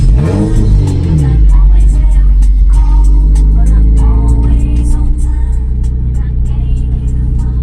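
Toyota MR2 Spyder with a fully catless exhaust and its exhaust valve stuck open, a loud close deep rumble that swells into a rev near the start and then holds a steady droning cruise.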